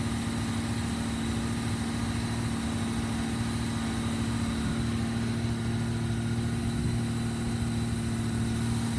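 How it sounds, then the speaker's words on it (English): Engine idling steadily as it warms up before an oil drain, a constant low hum with a faint mechanical buzz, unchanging and alone for the whole stretch. "But you got to warm an engine up."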